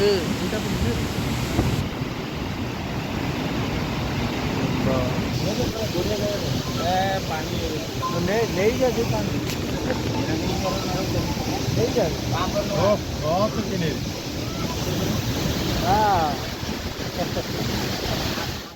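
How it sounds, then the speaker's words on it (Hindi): Chitrakoot waterfall in Chhattisgarh, India, gives a broad, constant roar of rushing water that fills the scene, steady and loud, with a person speaking over it and wind buffeting the microphone. "wow this is waterfall Chitrakoot waterfall"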